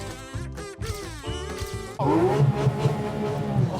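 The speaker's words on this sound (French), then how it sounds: "Oh, le bruit de la mécanique." A Porsche GT3 RS with its front end removed drives across a field. A voice is heard at first, then the engine cuts in loud and close with a rising rev.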